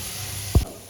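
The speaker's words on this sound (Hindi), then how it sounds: "और हमारे थोड़ा लहसुन ब्राउन होने के बाद अब हम तड़का लगा लेंगे।" Ghee tadka with browned garlic and green chilli hits moong dal in one short, loud sizzling burst that rises sharply and fades within a fraction of a second.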